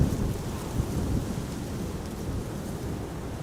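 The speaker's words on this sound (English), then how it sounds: "A few droplets are falling over here once again." Light rain during a stormy day at Amsterdam Schiphol Airport, heard as a steady, soft broadband patter of droplets with a low rumbling wash underneath, fairly even throughout with no voices.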